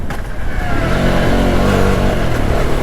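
A 2025 Jawa Bobber motorcycle engine runs loud and steady at close range, with a sustained mid-pitched drone and a slight rise in revs, and no talk over it.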